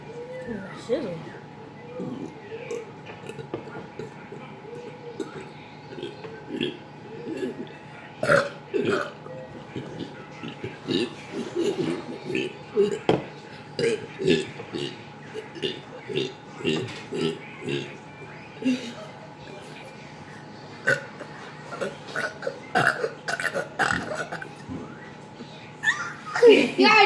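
A long run of repeated loud burps, some deep and drawn out, others short, comes in irregular bursts while young voices talk and laugh between them.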